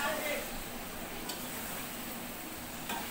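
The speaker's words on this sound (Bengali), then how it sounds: "চিকেন রান্না হচ্ছে, আলু দিয়ে দেশি চিকেন" Desi chicken cooking with potatoes in a pan, a steady low sizzle and faint stirring scrapes running throughout, with a couple of brief clinks.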